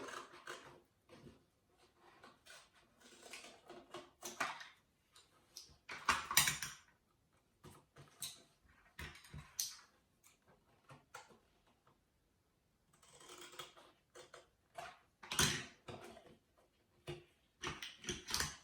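Scissors make quiet, close snips through cardboard while an owl shape is cut from a box, in short irregular clusters separated by silent pauses.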